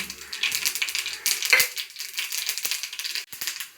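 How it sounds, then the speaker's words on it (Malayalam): Mustard seeds crackle and pop in hot oil, with sharp spluttering bursts scattered over a steady sizzle, close and fairly loud, no voices. "കടുക് പൊട്ടാറായി തുടങ്ങിയിട്ടാ"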